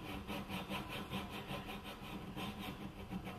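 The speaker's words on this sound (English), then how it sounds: "you must keep the file square to the axis of the component, and you draw" A metal file drawn along a brass part of a Spitfire airframe kit makes a steady, quiet rasp in quick, even strokes that repeat without pause.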